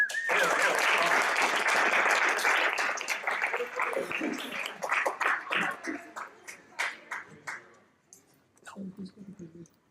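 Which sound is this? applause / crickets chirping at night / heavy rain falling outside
applause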